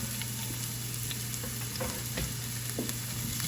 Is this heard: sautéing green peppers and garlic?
yes